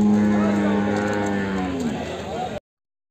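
A heavy Jafarabadi buffalo gives one long, deep low at a livestock market, loud and close, its voice sliding downward before cutting off abruptly.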